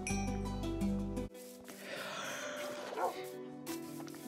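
Minecraft wolf puppies give soft, short yips and whimpers, fairly faint, following a brief burst of other game sound at the start.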